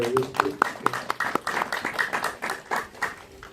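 A small audience at a film talk event claps in scattered, uneven bursts while people talk over it.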